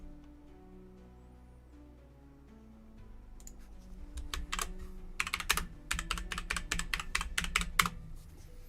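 Fast, angry typing on a computer keyboard, starting after a few quiet seconds, then dense rapid clicks and clacks close up, growing louder and more forceful toward the end.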